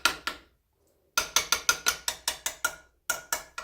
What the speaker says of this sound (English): Can't get cheese off the whisk.